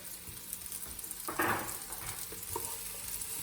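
Tofu frying in a pan: a steady, soft sizzle with occasional louder crackles and a brief stirring scrape, fairly close and without talk.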